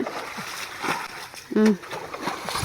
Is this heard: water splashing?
yes